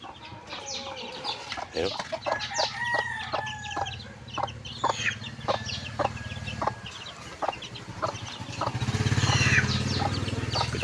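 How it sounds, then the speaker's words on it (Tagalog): Chicks and hens in a coop peep and cluck close by in a busy, overlapping chorus of short repeated calls, with a rooster crowing and a motor rumbling underneath, and a brief spoken word. "Ito naman yung mga sisiw natin sa loob."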